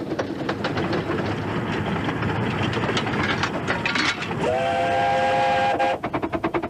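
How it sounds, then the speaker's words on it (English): Ravenglass and Eskdale Railway miniature steam engine, about one-third full size and over 100 years old, laboring up a gradient with steady rapid chuffing and rail clatter, loud and close, then a sustained steam whistle near the end. "on the way up the slope, these little engines are having to work really hard"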